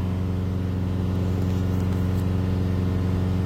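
A car engine revs during diesel particulate filter regeneration, a steady, strong mid-low hum with a faint whine above it, holding constant and close throughout.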